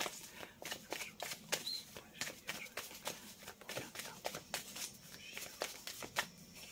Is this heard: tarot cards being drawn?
yes